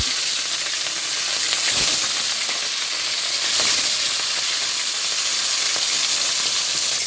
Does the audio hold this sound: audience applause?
no